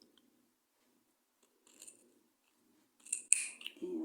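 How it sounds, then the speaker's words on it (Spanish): Scissors snip contrast yarn in stretches while removing it from a tubular cast-on in two-needle knitting, a few quiet, close, crisp cuts spaced among soft rustling. "Luego quitan la lana contraste, lo van cortando por trechos"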